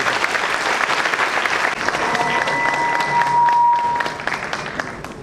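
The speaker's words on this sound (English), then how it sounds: "Let's welcome them with a thunderous round of applause" Loud applause from a school or stage audience greeting young hosts at a musical performance of the Ramayana, a dense continuous roar of clapping with a faint tone running through the middle before the clapping eases off.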